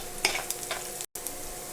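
Onion gravy is stirred in a hot pan, a steady sizzle broken by quick scraping strokes of a spoon over roughly two seconds, with a brief dropout partway.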